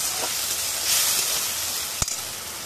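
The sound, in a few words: frying onion, ginger, garlic, tomato spice paste with turmeric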